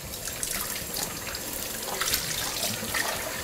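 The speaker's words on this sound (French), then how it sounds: "Vous rincez votre bol et vous n'oubliez pas de remettre la petite languette à l'intérieur." Running water pours steadily into the bowl of a Kuvings juicer as it is rinsed, a continuous broadband splashing rush close by for the whole stretch, with no voices.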